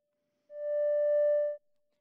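A clean sine tone from a wired modular synth oscillator feeding a VCA, sounding alone as one steady held note of about a second with a soft start and an abrupt cutoff.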